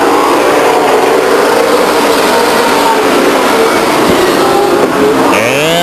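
Pack of race cars roaring away at the start at Stockton 99 Speedway, a dense, loud, continuous wall of engine noise that holds steady, with a single engine rising clearly near the end.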